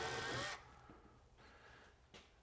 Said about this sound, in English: We'll go ahead and pre-drill our second and third hole where our studs are, according to our marks on the wall.